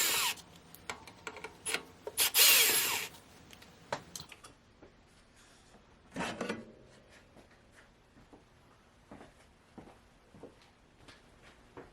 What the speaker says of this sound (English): we can take these screws out on top of the springs. And a Torx bit is required for that as well